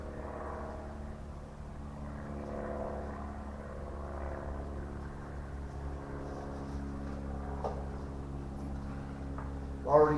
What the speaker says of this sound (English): Now we're going to break out the Dremel, and we're going to